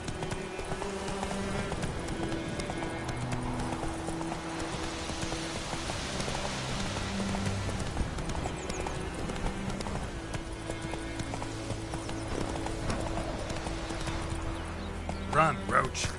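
A horse gallops in The Witcher video game, its hooves keeping a steady, continuous clip-clop beneath a constant layer of rain and game music, with a voice speaking briefly over it.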